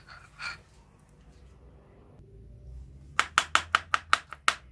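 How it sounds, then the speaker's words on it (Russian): A kitchen knife cuts carrots on a board while preparing vinegret salad: after a quiet stretch, seven quick, evenly spaced crisp chops ring out close and clear. "Теперь нарезаем морковь."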